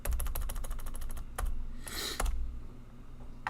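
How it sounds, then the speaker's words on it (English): Quick bursts of keystrokes clatter on a computer keyboard, near and fairly quiet, with brief pauses between runs of typing. "as I'm typing in here, you can see it's updating in my heading."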